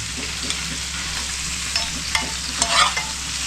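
Fish frying in a pan in a home kitchen preparing a creek-fish thali, a continuous moderate sizzle with occasional light clicks and spatula taps near the end, no talking.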